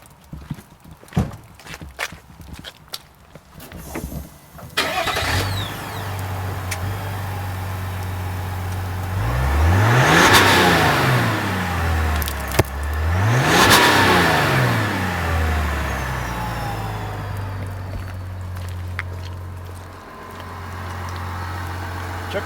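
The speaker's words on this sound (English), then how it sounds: "I'm going to start the engine over there by the passenger side and take a listen." A 2021 Chevrolet Tahoe diesel engine cranks and catches, settles into a steady low idle, then is revved twice in quick rising-and-falling sweeps before dropping back to a deep idle, heard close by.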